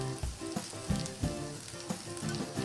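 Green peas frying in a pan with garlic masala, coriander powder, turmeric, chili powder and salt for a matar paratha filling: a steady close sizzle with soft periodic scrapes of stirring, no voices.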